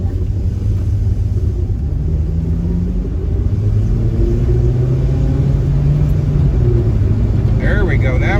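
A small four-cylinder car engine revved to around 4,000 RPM after a Sea Foam treatment, with a loud, steady close-up drone that climbs and holds under a rough, windy exhaust rumble.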